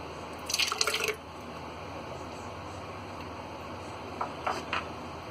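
Thick curd poured into a jar while making masala buttermilk, heard as a short wet glugging splash near the start and a softer second pour later, against quiet kitchen background.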